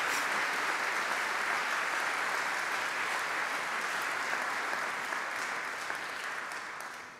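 An audience at a university matriculation ceremony in Jena applauds the Akademische Orchestervereinigung after its performance, with dense, steady clapping that fades slightly toward the end.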